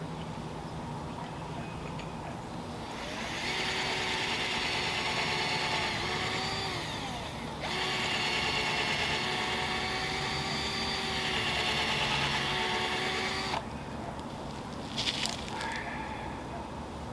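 A power drill drives screws into a wooden raised garden bed, two long steady whirring runs with a short pause between them, then quieter handling noise at the end, fairly close.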